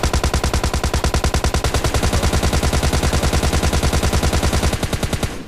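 Rapid sustained automatic gunfire from the PUBG video game, a loud, dense, evenly spaced stream of shots lasting several seconds before stopping abruptly, with no voice over it.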